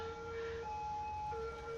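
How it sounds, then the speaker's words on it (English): A steady two-tone video-game ambulance siren wails continuously, faint and distant, alternating pitch every half second or so with no talking. "there's got to be an ambulance behind us"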